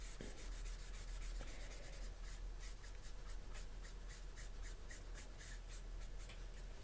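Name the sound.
Copic marker coloring and blending on paper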